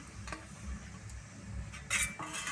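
A utensil scrapes and clinks against a pan while jute leaf curry is stirred, with a few soft, close metallic taps spread over a few seconds.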